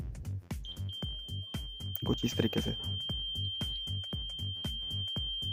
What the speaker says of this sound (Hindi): ये हमारा मल्टीमीटर जो है वो बज़र बजा रहा है